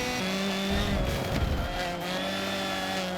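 A race car's engine drones loud and steady in Forza Motorsport 7 at Silverstone, with a burst of tire squeal and rumble partway through as the car is pushed hard.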